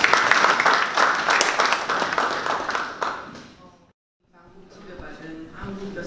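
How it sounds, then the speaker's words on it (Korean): Audience applause greets a speaker invited forward at a plastics forum, a dense wash of clapping for about three seconds that fades, breaks into a brief silence, then gives way to quieter room sounds and voices. "박수로 환영해주십시오."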